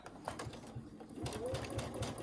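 A sewing machine stitches an inseam pocket in a short, fast, rhythmic whirring burst that starts after a moment of quieter handling sounds, with a soft voice in the background.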